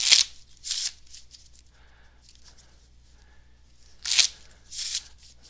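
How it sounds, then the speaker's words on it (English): Deck of playing cards shuffled during a magic livestream, with two pairs of short, crisp riffling bursts separated by a quiet pause, close and fairly loud. "I've just shuffled the deck."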